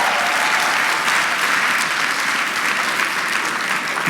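Steady applause from a crowd at an annual awards dinner, dense clapping that holds at an even loudness from start to finish with no pauses.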